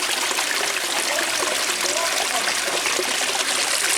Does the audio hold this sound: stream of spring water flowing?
yes